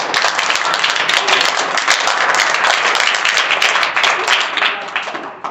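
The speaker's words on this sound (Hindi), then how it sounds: "वेरी फाइन, ताली बजा दो" A class of students claps together in a dense, steady burst of applause lasting several seconds, loud and close, with no speech.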